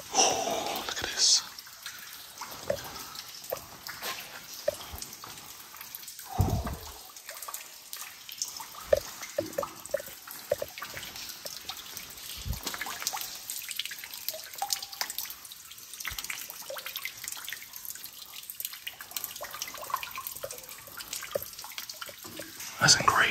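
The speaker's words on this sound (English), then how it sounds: "So many plastic buckets collecting water." Water drips into plastic buckets inside a cave near Manila, with faint, scattered plinks spread across a quiet, hissy background alongside soft low voices and movement.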